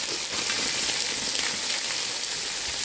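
Chopped onions, with mustard seeds, dal and curry leaves, sizzle steadily in hot coconut oil for poori masala, giving a constant close crackling hiss with no talking.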